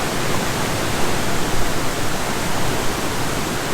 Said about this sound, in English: Nice little dam here right above the waterfalls.